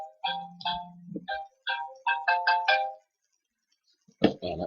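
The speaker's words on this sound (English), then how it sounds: "And that was my cell phone." A cell phone rings with a bright melodic ringtone: a string of short chiming notes in an uneven rhythm, loud and close, then a pause and a brief burst of noise at the end.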